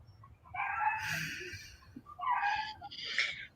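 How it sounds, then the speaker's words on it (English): Roosters in Hawaii crow in drawn-out, strained calls, one long call followed by shorter bursts, fairly close and loud against a low background hum. "Lots of roosters in Hawaii."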